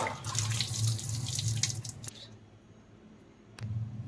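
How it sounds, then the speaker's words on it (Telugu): Water drains from cooked cabbage and chana dal into a strainer: a close splashing pour for about two seconds, a quiet pause, then a brief final gush. "ఇలా తీసుకొని వాటర్ ఏమైనా ఉంటే వాటర్ పోసుకుంటాను"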